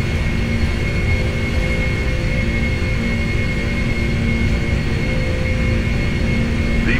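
Boeing 747-400 jet engines at takeoff thrust in the Prepar3D flight simulator, a steady, loud broadband roar with a constant tonal hum, continuous and even for the whole stretch with no voices.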